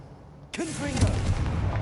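A Confringo explosion spell fired in Hogwarts Legacy, a sudden booming blast followed by a sustained rumbling roar with crackling debris, loud and close, with no talk over it.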